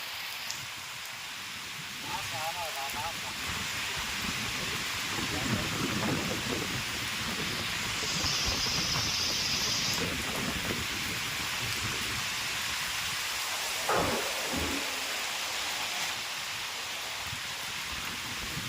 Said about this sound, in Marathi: अचानकपणे वाऱ्या वावदानासह तुरळक पाऊस पडल्यामुळे